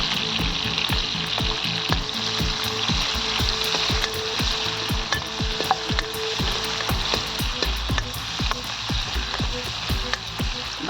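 Crushed garlic and chili frying in hot oil in a village-style kitchen, a steady loud sizzle with crackling pops and occasional stirring scrapes throughout.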